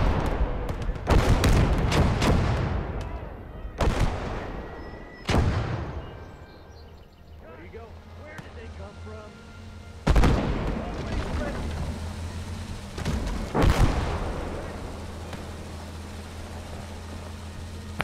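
Field guns fire in a video game set among hedgerows, a series of loud, heavy booms and blasts at irregular intervals, some close together, with rumbling tails between them.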